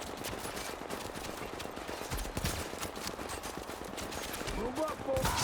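Rapid, continuous gunfire from turrets and guns in a video game crackles through a dense, busy battle mix at moderate volume, with no pauses between bursts.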